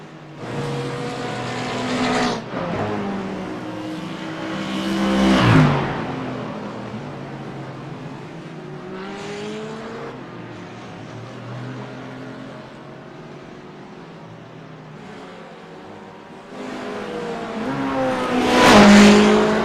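GT4 race cars roar past on a circuit with a Mercedes in the lead, engines rising and falling in repeated close pass-bys, with gear shifts and a final loud high-revving sweep.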